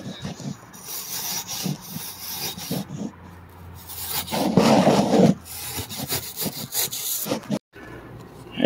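A knife scrapes and rasps through fiberglass duct board in a series of rough strokes, with a louder, sustained cut in the middle, close up and with no one talking.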